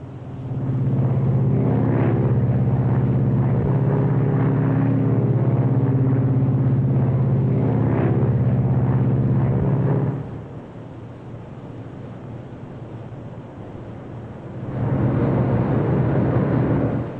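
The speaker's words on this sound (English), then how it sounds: "Gear down. Gears coming down." A Lockheed Super Constellation lowers its landing gear in flight, heard inside the airliner. A loud, steady low engine rumble with harmonic tones drops suddenly, stays quieter for a few seconds, then rises again. There is no talk.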